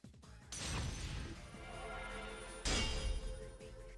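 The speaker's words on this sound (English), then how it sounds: "clashes with my own persona in a sound like glass smashing into glass" A harsh crash like glass smashing into glass as two personas clash in the Persona 4 video game, a sudden burst followed by a sustained bright roar and a second sharp impact.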